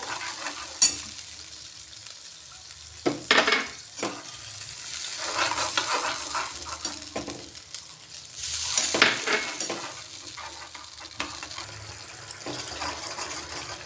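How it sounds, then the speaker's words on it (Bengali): Cashew paste and water going into a hot pan of malai kofta gravy, with steady sizzling and scraping stirring throughout, a louder splash-hiss burst partway, and no talking. "এবার বাটি দিয়ে একটু জল দেব এবার দেব কাজু বাটা"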